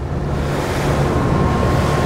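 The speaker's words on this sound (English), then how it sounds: "And now let's go across the waves." A luxury Italian RIB boat crossing ocean waves, with a steady loud rush of water and wind noise, constant with no breaks.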